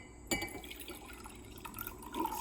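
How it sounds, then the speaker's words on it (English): Red water is poured into a glass of clear water, giving a close, quiet splashing trickle with faint glassy ringing over a low background. "I'm going to take my clear water and my red water and I'm going to pour this in their"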